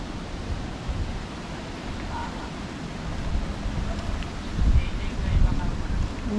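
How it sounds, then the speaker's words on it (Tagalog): Wind gusts rush across a swaying footbridge in a rural province, a steady blustery roar with low buffeting bumps near the microphone toward the end. "Oh, mahangin! Mahangin! Nayugyug ang tulay."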